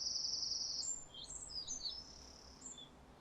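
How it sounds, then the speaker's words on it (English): Birds chirping and singing outdoors, high thin whistles and tweets overlapping against a quiet background, fairly close. "Birds playing, sun is shining."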